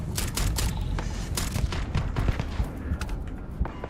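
A favorite gun fires in Starfield, in the Citadel, as repeated rapid bursts of loud, close automatic shots. The shots come in an uneven rhythm that runs the whole time without talking.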